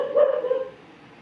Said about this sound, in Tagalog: Ang iingay nila, besh. Diba? Kalokan ng mga aso na yun.